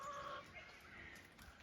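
Backyard hens cluck softly in a brief, faint run of calls over low outdoor background noise.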